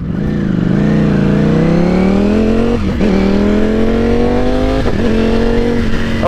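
A Ducati V4 Streetfighter motorcycle pulls hard under acceleration, its engine note climbing steadily with two brief dips where quickshifter gear changes cut in, loud and close throughout.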